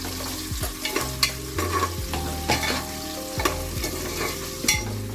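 Chopped onions frying in a pan for a vegetable pulao, a steady close sizzle broken by regular stirring scrapes and soft utensil knocks every second or so, with no voices.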